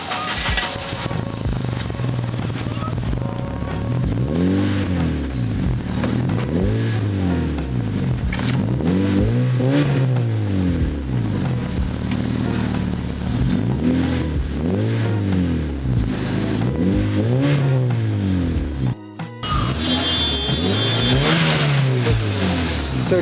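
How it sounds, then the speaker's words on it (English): An 8th generation Honda Civic fitted with an HKS aftermarket exhaust, revved repeatedly in loud rising and falling sweeps, about eight throttle blips in a steady rhythm, close up with no talking. "I just got the exhaust and it sounds nice."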